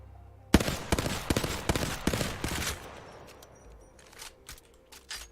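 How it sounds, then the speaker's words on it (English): Rapid bursts of Hemlock heavy assault rifle fire in a shooter game crack out in quick three-round groups, loud and close, then give way to fainter distant shots. "my favorite heavy assault rifle, the Hemlock"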